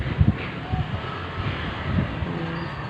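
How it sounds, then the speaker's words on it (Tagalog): Steady wind rushes past the microphone with low buffeting gusts, a broad continuous roar throughout. "Mahangin, oh. Tignan niyo."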